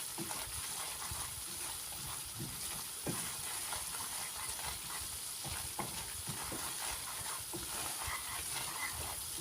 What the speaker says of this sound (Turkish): Güzelce mısır ununu kavuracağız.